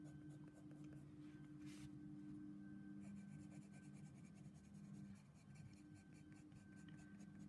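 A graphite pencil draws many tiny close-set strokes on paper for a tonal self-portrait, a soft continuous scratching with quick rhythmic ticks, very quiet and close.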